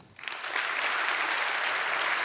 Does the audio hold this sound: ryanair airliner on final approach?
no